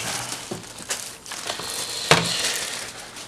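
Defender Oscar SM 600 PRO black keyboard being unwrapped from its packaging, with close crinkling and crushing plastic film, a few sharp rustles and one louder crackle partway through, no talk.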